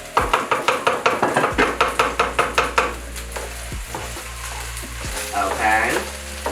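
Cooked white jasmine rice fries and sizzles in a pan for spicy fried rice, a steady hiss under a run of rhythmic scraping and stirring strokes that later thins out, with faint clinks.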